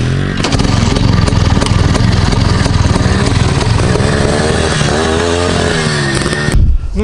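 Motocross motorcycle engine with two seasons of wear, ridden on slippery grass, loud and close with a rattling, sputtering two-stroke-like drone that rises and falls throughout, cutting off abruptly near the end.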